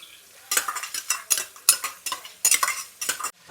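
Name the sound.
chicken pieces frying with ginger garlic paste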